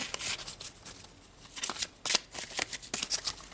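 Tarot cards being shuffled by hand, a run of crisp papery riffles and soft slaps in uneven bursts, close and fairly quiet with no voices.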